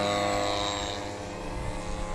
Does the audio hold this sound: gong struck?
no